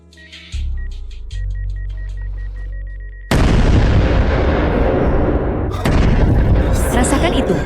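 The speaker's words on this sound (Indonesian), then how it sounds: "Chen Qian, sepertinya dia telah memasang bom di sini" A planted bomb goes off with a sudden heavy blast after a stretch of tense music and speech, followed by a long roaring rumble and a second burst of debris noise, loud and close.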